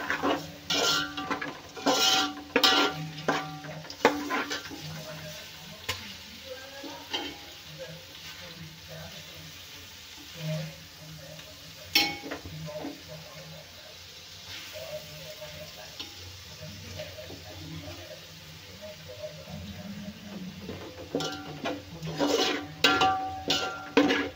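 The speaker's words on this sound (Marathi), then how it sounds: "तर आपल्याला ग्रेव्ही छान शिजवून घ्यायची आहे तेल सुटेपर्यंत।" Afghani chicken malai gravy with onions sizzling and frying in a pan until the oil separates, with steady crackle and repeated clinks of a spoon stirring against the pan.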